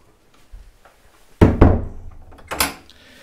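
Access hatch being lowered shut aboard a Nordhavn 68 yacht: a soft knock, then a loud close thunk with a quick rattle, followed by a second lighter thud a second later.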